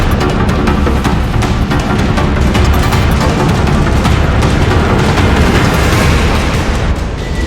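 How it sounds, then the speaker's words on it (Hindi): US B-2 bomber strike explosions in Yemen: a continuous loud, dense roar of rumbling blasts and booms fills the whole stretch without a pause, heavy in the low end, with no voices. "अमेरिका ने हूथी लड़ाकों पर बॉम्बर अटैक की फिल्म रिलीज कर पुतिन की धमकी को हवा में उड़ा दिया है"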